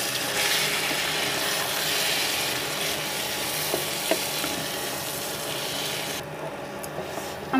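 Malabar spinach hits a hot pan of browned onion and garlic and fries with a steady, close sizzling hiss, joined by a few faint clinks of stirring.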